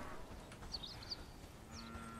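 Cow lowing in the Bellwright game world, a couple of short, mid-distance calls rising over steady ambient background noise, with no talking at the moment.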